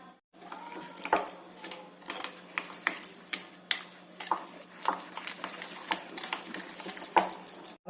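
A spoon scrapes and taps in a steel bowl while a spice mix with turmeric and asafoetida is stirred for stuffed curd chillies, a close run of irregular clinks and scrapes, with no talking.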